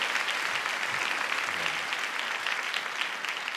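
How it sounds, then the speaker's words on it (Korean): Steady applause from a church congregation at a New Year's Eve worship service and tenor concert, dense and continuous clapping filling the room throughout with no voices over it. "박수 한번 쳐주세요."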